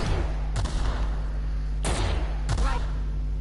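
A grenade launcher firing in The Outer Worlds, three loud separate blasts about a second apart over a constant low game rumble.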